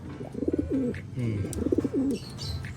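Pigeons coo softly nearby in two rounded, throaty phrases, with faint chirps and light rustling in the background.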